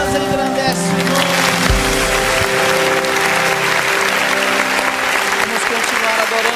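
Church congregation clapping steadily through a Christmas worship service, dense and continuous over loud, sustained music, with a voice briefly heard above it.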